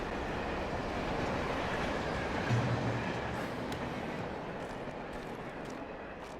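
Continuous rumble and rattle of a passing train in the video game Alan Wake, a steady rolling noise holding at moderate level and easing slightly toward the end, with no talk.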